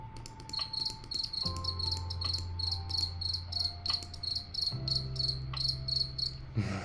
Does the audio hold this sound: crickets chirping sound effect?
yes